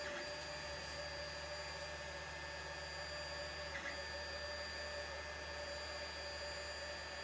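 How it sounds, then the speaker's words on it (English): A 3D printer runs steadily in the background with a constant whirring drone and faint high tonal whines, an unbroken mechanical hum with no talk. "I apologize for the 3D printer in the background"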